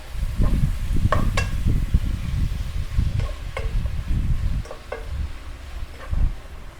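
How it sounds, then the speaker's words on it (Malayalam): Green chillies and salt sautéed in a pan, with a steady low sizzle under repeated spoon scrapes and stirring taps against the metal, continuous and fairly close. "നമുക്കിതിലേക്ക് രണ്ട് പച്ചമുളക് ഇടാം പിന്നെ ആവശ്യത്തിന് ഉപ്പിടാം എന്നിട്ട് നല്ലോണം വഴറ്റിയെടുക്കാം"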